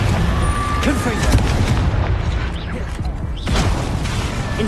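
Loud, dense blasting spell explosions from Hogwarts Legacy, with booming impacts and crackling rumble filling the whole stretch and a brief dip in the middle before another burst.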